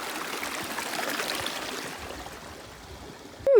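Stream water flowing steadily at a river crossing on the Tahoe Rim Trail, a continuous rushing close by that eases slightly near the end, with no speech.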